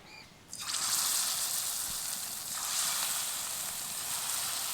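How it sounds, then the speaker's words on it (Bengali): Marinated chicken pieces drop into hot oil and set off a loud, steady sizzle that starts abruptly and continues as a dense hiss, with no talking. "এখন এই চিকেনগুলো ভেজে নেব।"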